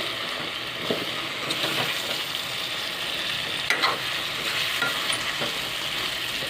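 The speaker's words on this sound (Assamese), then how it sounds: "এতিয়া লৰাই দিওঁ।" Wilted leafy greens stirred in a hot pan: a steady close sizzle throughout, broken by repeated soft scraping strokes of the spoon, with no voices.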